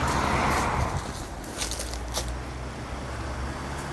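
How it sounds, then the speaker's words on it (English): A vehicle rushes past on a road beside an abandoned late-1930s cottage, loud at first and fading away, leaving a low roadway hum with a few faint outdoor sounds. "Sorry about the traffic noise."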